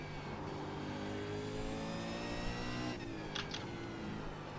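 A V8 Supercar at full throttle in the iRacing simulator at Zandvoort, its engine droning steadily with a rising pitch, then a shift and renewed acceleration, loud and continuous with no talk.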